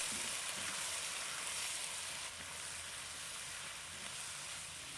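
Ginger wine hitting a hot wok with Chinese broccoli (gai lan) during stir-frying, a steady, close, loud sizzling hiss that holds evenly throughout with no voices.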